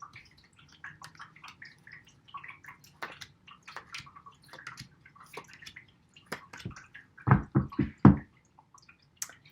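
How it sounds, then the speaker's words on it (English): Water flowing from a small device that has been switched on, heard up close as soft trickling and scattered drips. Louder gurgling splashes come near the end, and no one speaks. "Listen to the water and just watch him."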